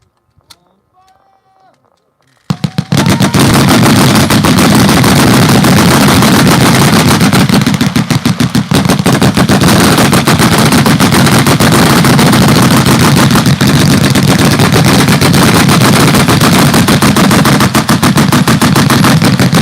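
A Vickers machine gun lets off a long, continuous burst of about 25 rounds, very loud and close, after a couple of seconds of quiet with faint movement.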